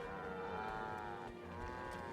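Cows lowing in the Guild Wars 2 video game, a long, drawn-out moo with a steady tone, fairly faint and soft, with no talking over it.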